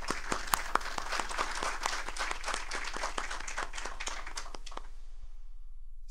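Audience applause at a national forum in honour of a former minister, brisk clapping from a moderate crowd that fades out after about five seconds.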